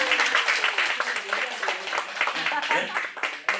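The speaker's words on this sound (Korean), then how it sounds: "박수 하겠습니다." A church congregation claps in a dense, continuous patter with scattered sharper hits, moderately loud throughout, while voices murmur and talk underneath.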